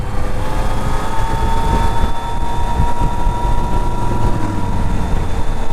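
A 2019 Yamaha Niken GT three-wheeled motorcycle accelerating, a loud steady engine drone with a rising tone, mixed with rushing wind noise and no voices.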